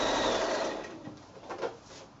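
Sewing machine stitching a double line of quilting across a quilt, a steady close whirring hum that gradually fades and slows toward the end.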